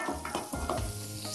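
A spice mixture sizzling in hot oil for Algerian cooking, a continuous close frying hiss with soft stirring scrapes running through it, no voices.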